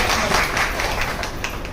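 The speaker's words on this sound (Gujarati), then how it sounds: "એમના માટે એક ખૂબ તાળીઓ જોરદાર પાડી આપો." An audience claps at a Bharat Vikas Parishad ceremony in Radhanpur honouring sanitation workers. The dense applause is steady and moderately loud throughout, with no voices over it.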